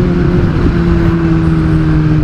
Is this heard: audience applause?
no